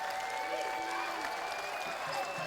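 A basketball crowd at the Coliseum in Shreveport cheers and applauds in the final seconds of a men's game against Centenary, a steady roar of noise with a faint voice over it.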